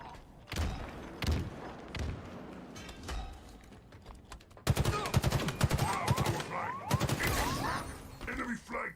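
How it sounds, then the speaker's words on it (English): Rapid bursts of Halo Infinite gunfire crack and thud, growing denser and louder partway through, with dull impacts scattered between volleys. "You can hear the gunshots."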